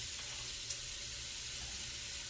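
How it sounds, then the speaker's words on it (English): Celery and onion sautéing in melted butter in a pan, a soft steady sizzle that runs evenly throughout, fairly quiet with no voices. "So I'm sauteing that."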